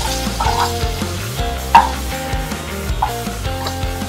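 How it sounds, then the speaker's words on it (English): Vegetables for chicken pot pie sautéing over medium heat, a close steady sizzle with stirring scrapes and a sharp knock of utensil against pan partway through, no talk. "We don't want to burn the vegetables, but we just want to soften them up just a little bit more."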